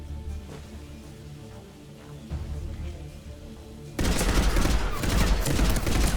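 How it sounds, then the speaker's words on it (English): Mass Effect 3 gunfire, a dense, loud burst of sci-fi weapon shots erupting suddenly after a stretch of quieter rumbling game ambience and continuing to the end. "Sounds like Star Wars gun noises."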